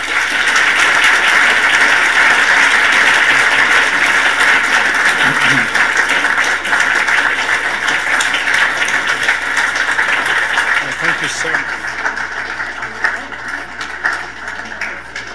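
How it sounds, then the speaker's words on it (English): Audience applause at an evening event on AI and robotics, a broad steady roar of clapping from a large crowd that holds for several seconds and then thins and fades toward the end. "And please join me in giving them another round of applause."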